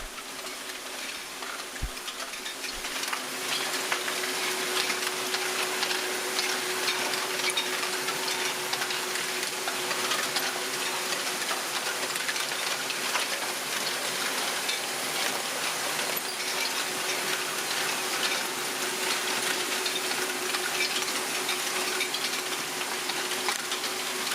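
LEGO Great Ball Contraption modules run continuously, a dense steady rattle and clicking of small balls rolling along tracks and tubes with mechanical ticking, a busy even wash of noise throughout.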